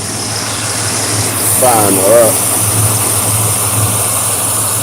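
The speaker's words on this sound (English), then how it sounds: "I'm gonna run this engine and set up until I switch it over" A steady engine idles close by with a constant low rumble throughout, while someone briefly speaks over it.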